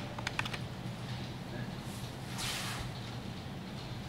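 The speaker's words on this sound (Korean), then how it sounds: "딜리트 키 누르면 지워져요. 딜리트 키." Several quick keystrokes clack near the start on a computer keyboard during PLC programming software work, with the delete key pressed, then a low steady hum fills the rest of the clip.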